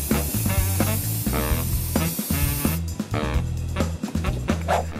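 Hissing bursts from a spray can coating a cardboard Iron Man helmet with gold paint, close up and steady, partly under background music.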